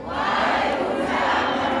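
A sustained roar of crowd cheering and clapping at a gathering, loud and continuous throughout, with no talking on top.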